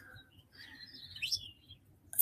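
Several pet birds kept at home chirp and tweet in quick, scattered high calls, fairly faint over a low background rumble, with a brighter sweeping call near the end.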